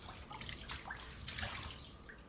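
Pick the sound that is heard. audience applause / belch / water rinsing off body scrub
water rinsing off body scrub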